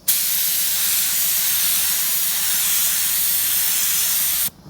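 A Harbor Freight Spectrum HTE spray gun sprays paint in light coats, giving a loud, steady, close hiss that runs unbroken for about four and a half seconds before cutting off abruptly.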